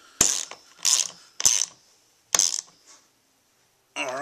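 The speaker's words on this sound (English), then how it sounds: "grab your 13 millimeter socket. And you can torque these bolts down." A 13 mm socket ratchet tightens the bolts on a Cipher Auto CPA1000 racing seat bracket. Four sharp, close metallic clicking bursts come at uneven intervals, then a quiet pause.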